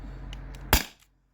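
T4E HDP50 pistol running on an HPA tank fires a single rubber steel ball, one sharp close crack with a short tail, preceded by faint handling clicks over low background hum.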